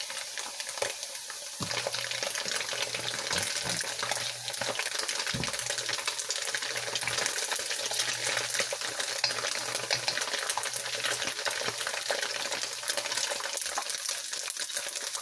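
Tofu frying in a pan under a splatter screen, giving a continuous close hiss and crackle with scattered pops throughout, steady and unbroken, no voices.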